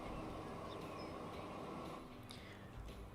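An electric RE44 locomotive in Transport Fever 2 runs with a steady low rumbling hum and faint whine, continuous and even throughout, with no talk over it.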